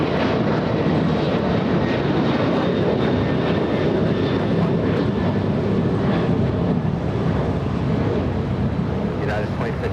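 A plane landing at LAX airport gives off a continuous broad jet roar that stays loud and steady for the whole stretch, with no clear rise or fade, as if heard from a nearby spotting position.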